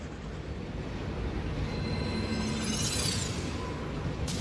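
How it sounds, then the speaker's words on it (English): Trains in the factory-building video game Satisfactory give off a steady low mechanical rumble, with a brief airy hiss rising near the middle of the sound, with no voices. "I love how when I get close to any of the trains, they all have to hiss."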